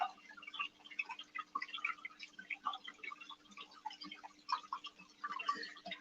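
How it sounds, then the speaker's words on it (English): Steady trickling and bubbling of water churned up by an aerator stone in a yabby aquarium, a busy stream of small droplets and splashes, fairly quiet and close, with no voices. "Sort of gives you an idea how much water flows there."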